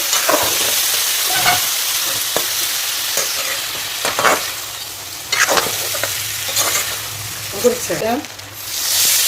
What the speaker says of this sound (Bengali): এটা দিয়ে দিলাম সেই সিদ্ধ ডালটা ভালো করে কষিয়ে